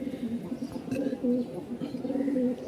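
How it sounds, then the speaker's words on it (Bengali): Small Giribaz pigeons cooing in repeated low, soft coos, close by and fairly quiet, with faint background noise. "এই কবুতরগুলো দেখতে একটু ছোট সাইজ, কিন্তু মাশাল্লাহ বাজিমাত করা একদম কবুতর"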